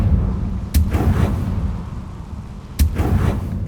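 A Confringo blasting spell explodes in Hogwarts Legacy, two sharp booming blasts about two seconds apart, each followed by a rumbling tail over a low, steady background.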